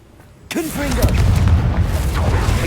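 A Confringo spell explosion in Hogwarts Legacy bursts in suddenly after a quiet moment, followed by sustained roaring, rumbling blast noise, with a shouted voice over the start.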